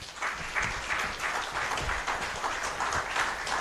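An audience claps for the Minister of Finance at a World Investment Week event, dense sustained applause with steady rhythmic hand claps, fairly near and continuous throughout.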